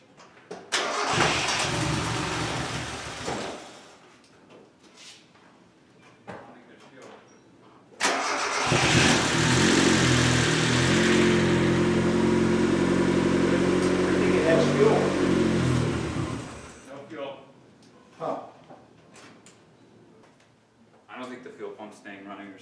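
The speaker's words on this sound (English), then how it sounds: "we had a start, but then the car would stall, wouldn't stay running" A turbocharged Mazda Miata engine cranks and catches briefly, goes quiet, then starts again and runs loudly for about eight seconds before stalling; voices talk in the gaps before and after.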